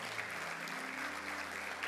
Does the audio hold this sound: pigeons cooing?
no